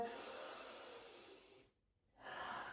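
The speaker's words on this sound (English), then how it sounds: "One more big deep breath in here." A slow, deep Pilates breath: a long soft inhale of breathy air, a brief pause of near silence, then a gentle exhale, close and quiet with no talking.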